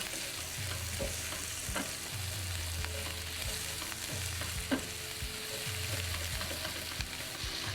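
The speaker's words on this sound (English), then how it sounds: "So now let's get in 1 diced onion. Cook this." Diced onion sizzles and fries steadily in a hot pan, a continuous crackling hiss with a few light stirring knocks, close and unbroken with no talking.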